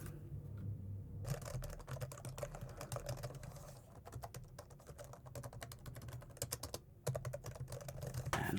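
Rapid typing on an old Gateway PC keyboard with thick keys, dense clacking keystrokes close up, with brief pauses near the start and toward the end.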